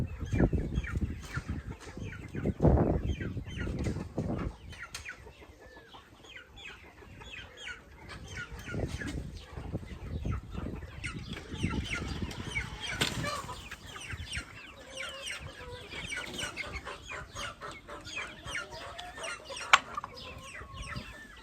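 Chickens and a rooster cluck steadily at close range on a farm while being fed, with occasional wing flaps and soft background voices.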